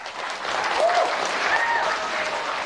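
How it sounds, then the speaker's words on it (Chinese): A comedy show audience applauds, a steady wash of many hands clapping at moderate distance, with a few faint voices and a whistle-like call rising over it. "听听什么才叫掌声。"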